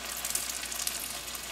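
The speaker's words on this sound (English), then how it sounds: "put a small piece of batter and as you see it should be sizzling" A small piece of moong dal vada batter dropped into hot oil heated to medium high, giving a steady bright crackling sizzle with scattered pops throughout, close and alone.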